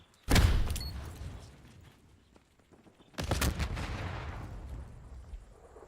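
Gunfire in a hardcore match of a shooter video game: a sharp close burst of shots, a quieter lull, then another loud volley that trails off into a sustained rumble.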